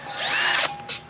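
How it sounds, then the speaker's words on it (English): A close power drill whirs loudly as it pre-drills screw holes in wood for a speaker box, winding down briefly before a short second burst. "pre-drilling all those, making them tight."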